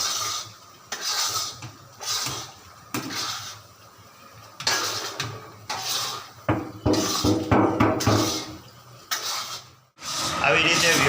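A spoon scrapes through an adadiya mixture roasting in a pan, stirred one side at a time in repeated rhythmic strokes of close scraping and rubbing, with a voice talking in between.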